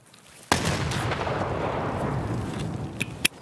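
A grenade goes off in Escape From Tarkov with a sudden loud blast that rolls into a sustained rumbling tail, followed by a couple of sharp distant cracks.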